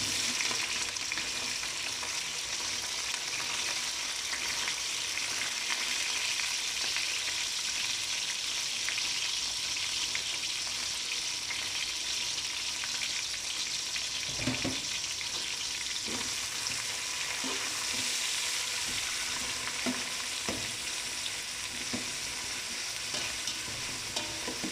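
Onions with green chillies fry in a pan for chicken dum biryani, giving a steady, moderately loud sizzle with a few scattered stirring scrapes and clinks and no talking.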